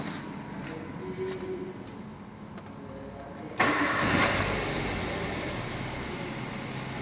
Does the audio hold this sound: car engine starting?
yes